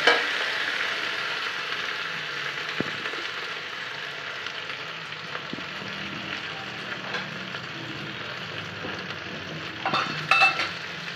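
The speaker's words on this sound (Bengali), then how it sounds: "আলু ভাজাভাজি চলছে এখন" Potatoes fry in a pan in a home kitchen with a steady, close sizzle that holds throughout, joined near the end by a few brief clinks of a utensil against the pan.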